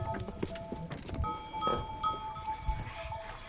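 A herd of goats bleats intermittently at a mountain goat farm, several short bleats overlapping over a quiet shuffling background, with faint bell-like clinks.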